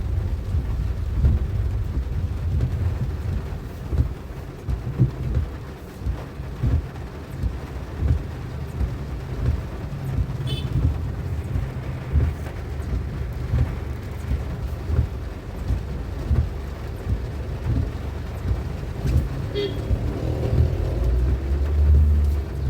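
A 2014 Nissan Sunny petrol car pulls along in second gear through heavy Chennai rain, giving a steady low engine drone mixed with rumbling road and water noise and wind buffeting over the microphone.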